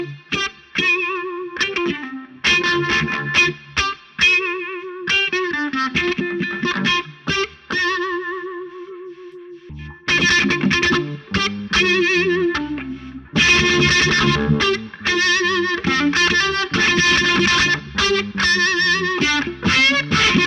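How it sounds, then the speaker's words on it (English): Electric guitar played through vintage-style wah and Univibe pedals, distorted chords and stabbing riffs with swirling modulation, loud and continuous with brief pauses between phrases. "So you can hear the Univibe's not very strong there"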